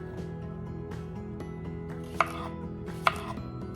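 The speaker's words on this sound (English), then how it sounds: "And I'm just gonna get them all chopped up." Knife cutting pickling cucumbers on a board, soft dull cuts with two sharp louder chops, close and quiet under a steady low background hum.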